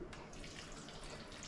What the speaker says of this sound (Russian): Добавляем воды.